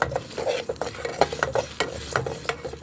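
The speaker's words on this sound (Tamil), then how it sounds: "கடலப்பருப்பு உளுந்தம் பருப்பு காஞ்ச மிளகா அஞ்சாறு கொத்தமல்லி" Chana dal, urad dal and dried red chillies roast in a dry pan, the spoon scraping and clattering in quick irregular strokes over a faint sizzle, close up with no talking.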